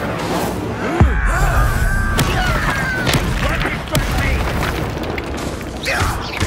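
A fire spell blast goes off in the Hogwarts Legacy video game, a sharp boom near the one-second mark within a busy, continuous stretch of battle noise and other spell impacts.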